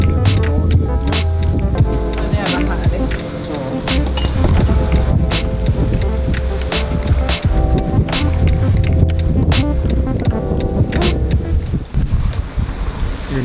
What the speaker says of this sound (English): we started the engine today to make some water.